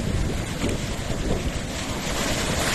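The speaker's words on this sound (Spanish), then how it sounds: "Ahí el golpe de las olas." Waves break on the beach at Playa Los Pinos in Alto Lucero, Veracruz, Mexico, a loud, continuous roar of surf mixed with wind buffeting the microphone, with no voices.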